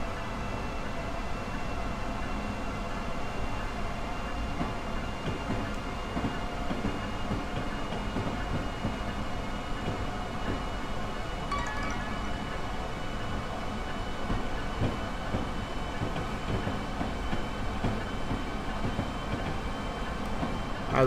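An Amtrak train on the Northeast Corridor in Train Simulator 2021 rolls along the rails with a steady, continuous rumble and faint clicking, heard from inside the cab with no talk over it.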